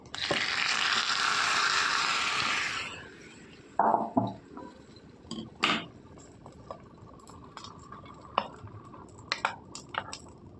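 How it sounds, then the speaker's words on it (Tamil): Tempering spices for tomato chutney sizzle loudly in hot oil for about three seconds, then stop, followed by scattered clinks of a spoon and pan. "சட்னியை தாளிச்சு போட்டு"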